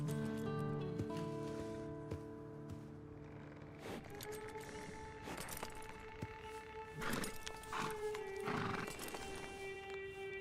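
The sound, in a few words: horse neighing and hooves in Red Dead Online video game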